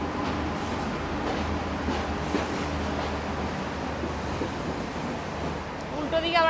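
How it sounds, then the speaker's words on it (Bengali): An Intercity Express train pulls into a junction railway station in Sri Lanka with a continuous rumbling roar and rushing noise, a faint squeal near the end, and voices mixed in. "ঢুকে গেছে আমাদের ট্রেন কলকাওয়ালা জাংশন রেলওয়ে স্টেশনে।"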